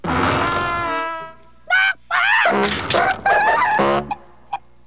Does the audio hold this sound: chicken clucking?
yes